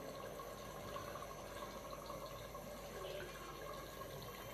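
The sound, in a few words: pouring half cup of water into daal chicken pot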